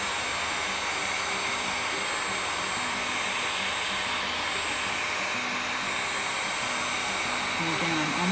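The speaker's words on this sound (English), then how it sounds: "Using the narrower nib on the end of the heat gun, and with a higher setting, I'm just blowing the leaves out." A heat gun on a high setting with a narrow nozzle blows steadily over resin, a constant even airy roar held close throughout with no break.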